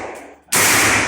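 A single sharp gunshot from an AR-9 9mm carbine with a 16-inch barrel cracks loud and close after a brief quiet, its blast holding strong through the end.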